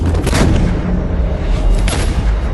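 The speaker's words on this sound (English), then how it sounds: "The artillery opened, the mortars opened, the infantry posts opened." Artillery and mortar fire: two heavy booms about a second and a half apart, each with a sharp crack and a rolling low rumble in a loud, dense battle din, with no voices.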